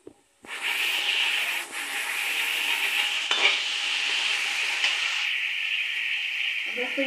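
Tomatoes and masala fry in a pan for aloo sabji while a spoon scrapes and stirs them, a steady close rasping sizzle running almost unbroken for several seconds.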